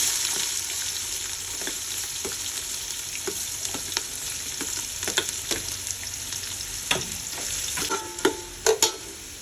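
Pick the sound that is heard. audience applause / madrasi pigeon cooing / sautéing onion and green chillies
sautéing onion and green chillies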